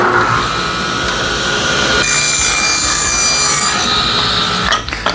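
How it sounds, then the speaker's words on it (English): A table saw rips cedar scraps into strips about an inch wide, a continuous close, loud rasping whine of blade through wood that holds steady and then tapers off at the end of the cut. "We're gonna make some more inch wide strips on the table saw."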